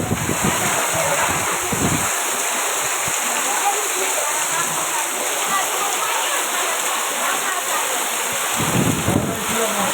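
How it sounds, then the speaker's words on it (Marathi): Rushing water pours loudly and continuously during a storm with strong winds and hail, a close, roaring wash of flow with voices talking over parts of it. "हे पाणी येत आहे"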